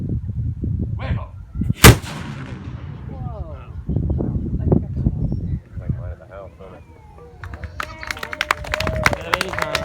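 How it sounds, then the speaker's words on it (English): Black powder cannon fired outdoors at St. Augustine: one sharp, very loud boom early on, followed by crowd chatter, shouts and birds in the background. "Packing it tight, it makes for a pretty loud bang."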